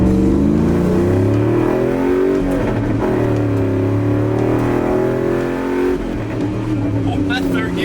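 Engine of a Dodge Dakota pickup revs and pulls loudly from inside the cab while driving, pitch rising through acceleration with a brief dip at a gear change, and a voice speaks over it.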